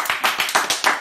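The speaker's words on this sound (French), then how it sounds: "Applaudissements dans le set" A quick burst of clapping, several sharp claps in a rapid uneven rhythm, close by with no voices.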